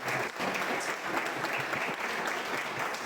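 A church congregation applauds during a family worship service, with dense, steady clapping from many hands filling the room for the whole stretch.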